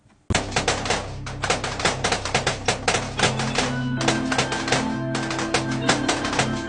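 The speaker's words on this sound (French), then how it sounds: "Ça, c'était le son des 41 balles que Diallo a pris." Intro of a song evoking the 41 shots fired at Amadou Diallo: a loud, rapid volley of sharp gunshot-like cracks in uneven bursts over a sustained musical drone, with no break for several seconds.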